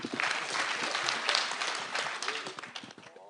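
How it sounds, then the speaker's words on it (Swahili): Audience clapping at a county security forum in Narok, a dense burst of applause with voices talking over it. "Pigeni makofi DG na viongozi wote"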